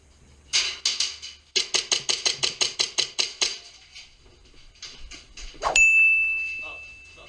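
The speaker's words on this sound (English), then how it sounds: "That's a ricochet." Airsoft BBs striking metal during play, a rapid run of bright metallic pings and clangs in quick succession, then a few scattered hits and a sharp ringing ping that trails off.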